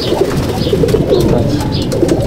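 Domestic pigeons coo in a loft, the soft rolling calls repeating steadily and fairly close over a constant murmur of other birds, with no talk.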